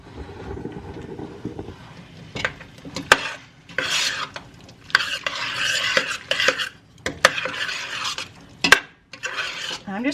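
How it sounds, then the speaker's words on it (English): A spoon stirs and lightly mashes fruit in a pot on a stove burner, with irregular scraping and knocking strokes against the pot and pauses between bursts, close and fairly loud, no talking. "I'm just going to keep on stirring and slightly mashing the fruit as I go here until it comes to a full boil."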